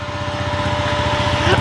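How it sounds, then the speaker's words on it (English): A motorcycle and a leaf blower starting up right beside someone at home, a loud close engine putter with rapid regular pulsing and a higher whining drone on top. "Eli's decided to start the motorcycle right beside me here. And you're going to start the blower."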